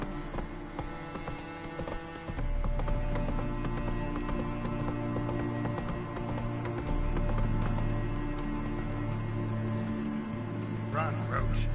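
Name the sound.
horse galloping in The Witcher 3 video game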